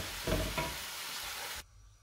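Meat browning in a pan for chilli con carne, a steady broadband sizzle with a couple of stirring scrapes near the start, cutting off abruptly toward the end.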